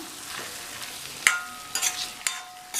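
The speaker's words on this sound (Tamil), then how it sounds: "அதை சேர்த்துட்டு இதை இந்த எண்ணெய் மசாலாலேயே நல்லா வதக்கிக்கணும்." Broad beans cut into large pieces are sautéed in oil and masala, a soft sizzle punctuated by several sharp metallic clinks and scrapes of a spoon against the pan, close and clear, with no voices.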